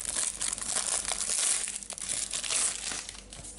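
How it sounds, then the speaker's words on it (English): Plastic shrink wrap being torn and peeled off an Uncharted 4 collector's edition box, a close, continuous crinkling and crackling that runs throughout without any talk. "So we're just going to quickly unwrap it."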